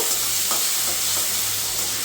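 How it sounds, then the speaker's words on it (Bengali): Potatoes rubbed with salt and turmeric frying in hot oil, a dense, steady sizzle that holds loud and close for the whole stretch with no voices. "আলু দিয়ে দিয়েছি তেলে, এখন আলুটা কিছুক্ষণ ভাজবো"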